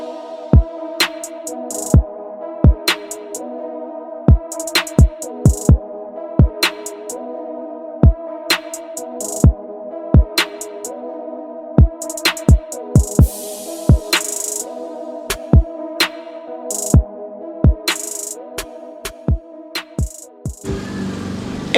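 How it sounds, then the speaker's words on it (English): Rap music with a strong, steady beat plays alone, sharp regular drum hits punching over a sustained tonal backing, ending in a burst of noise. "It's rap music, and it sounds like this."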